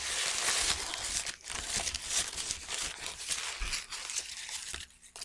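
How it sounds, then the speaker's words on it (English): A paper-wrapped Steak 'n Shake jalapeno crunch double steakburger is unwrapped close up, with continuous crinkling and rustling of paper in irregular bursts. "Unwrap it."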